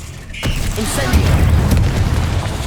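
An Incendio fire spell cast in Hogwarts Legacy lets out a deep booming blast that swells and rumbles steadily for a couple of seconds, loud and close.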